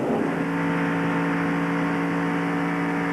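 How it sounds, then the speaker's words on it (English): A NASCAR stock car at Daytona International Speedway in the 1995 Pepsi 400 drones with a steady, loud, high engine whine as it heads into a corner, a continuous sustained tone with no voices. "We can hear the engine in the Hell Source car. Listen as he goes to the corner."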